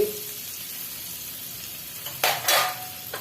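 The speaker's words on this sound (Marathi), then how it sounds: "बटर टाकल्यानंतर लसूण तुकडे टाकूया अद्रकचे तुकडे" Garlic and ginger pieces fry in butter for sweet corn soup, giving a steady close sizzle with a couple of louder bursts of spitting near the end. No one speaks.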